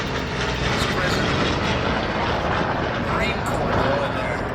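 A B-25 bomber flies over at the Miramar air show, its propeller engines giving a steady, broad drone over crowd ambience while a commentator talks over the top.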